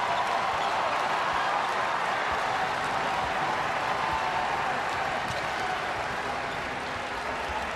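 Dense, steady roar of a basketball arena crowd cheering at Arkansas vs Western Kentucky, a broad continuous wash with no pauses, heard alone without anyone talking over it.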